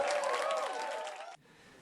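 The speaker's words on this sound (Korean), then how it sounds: "브래드 리틀이 강의실에 등장하자 환호성이 터져나옵니다" Students in a lecture room cheering and shrieking as Broadway actor Brad Little walks in, a dense burst of high excited voices that cuts off abruptly, leaving faint room tone.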